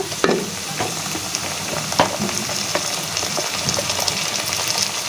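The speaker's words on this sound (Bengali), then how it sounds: "নাড়াচাড়া দিয়ে পেঁয়াজটা একটু ভাজা ভাজা হবে।" Onions crackle and sizzle steadily in a hot pan while cooking a crab curry, with occasional scraping clicks from stirring nearby.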